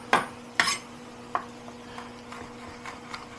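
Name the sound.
mincing garlic with a knife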